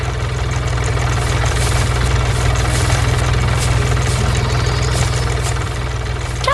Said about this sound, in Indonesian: Traktor merah bersama mesin pengumpul jerami sedang bekerja keras.